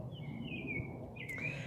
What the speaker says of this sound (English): I could hear the birds chirping.